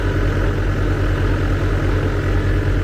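Gehl RT210 compact track loader running loud and close, its engine holding a steady low rumble under load while hydraulic track tension is applied out in the field.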